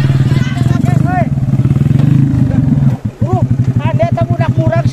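A motorcycle engine revs repeatedly in loud, pulsing bursts close by, with a brief dip midway, while people talk over it throughout.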